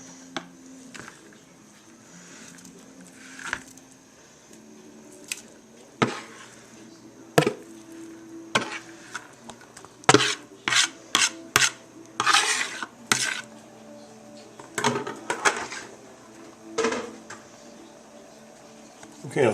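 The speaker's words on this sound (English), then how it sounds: "I'll stir the meat into the sauce" Shredded meat being stirred into simmering chili powder gravy in a pot for tamales, with repeated scraping and clanking of a utensil against the pot, louder bursts in the middle, a voice talking now and then.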